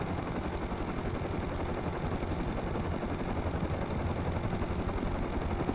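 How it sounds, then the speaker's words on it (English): A helicopter in the online survival game Rust sounds as a dense, continuous broadband roar with rapid rotor chop, loud and steady throughout with no talk. "Chopper."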